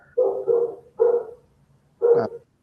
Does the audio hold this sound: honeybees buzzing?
no